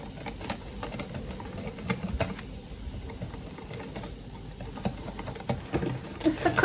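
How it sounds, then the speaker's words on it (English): A plant milk batter for an eggless omelette is whisked by hand in a bowl, producing quick, uneven ticking and tapping strokes at close range, fairly quiet, with a brief louder clatter at the end. "then just by hand I'm just going to whisk it all together"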